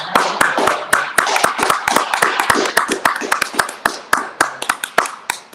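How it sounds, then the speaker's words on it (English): A small audience at a poetry artist spotlight claps in sharp, close, uneven hand claps, loud and dense throughout with no talking over them. "once again, give FoFeet a round of applause."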